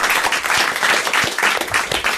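A French radio-show studio audience claps steadily for about two seconds, a close, dense patter of hands without pause and no voices on top.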